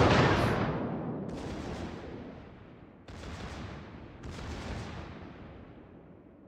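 Three deep, booming salvos from the Tirpitz's secondary guns in World of Warships, each a heavy blast that rolls off into a long rumbling decay, well spaced and with no voices.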